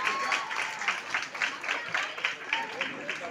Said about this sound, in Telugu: ఒకసారి గట్టిగా చప్పట్లు కొట్టాలి